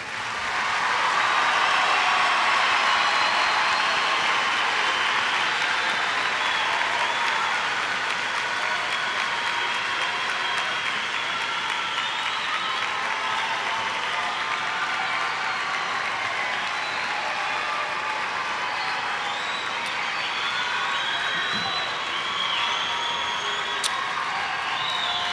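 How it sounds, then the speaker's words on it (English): Sustained applause from a large audience at a high school graduation ceremony, steady and loud clapping that carries on without a break for the whole stretch. "Will the audience please give them a big round of applause?"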